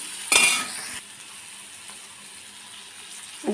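Chopped yard-long beans fried with Maggi masala in a pan give a brief burst of sizzling and scraping stirring, then settle into a faint, steady low sizzle.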